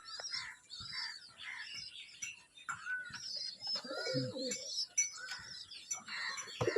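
Pigeons in a loft make soft repeated coos and scattered chirps, fairly close, with a faint flutter of wings and a low hum of the surroundings.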